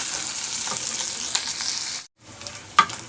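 Onions fry in hot oil with a loud, bright hiss that drops out briefly, then returns with a sharp clink near the end.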